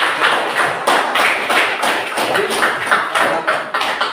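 Applause from a classroom audience after a lesson presentation, a steady run of overlapping hand claps at close range with rhythmic bursts and no talking over it.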